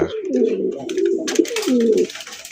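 Indian Bombay pigeons coo close by in deep, throaty rolling calls, several overlapping phrases over about two seconds with some faint background rustle.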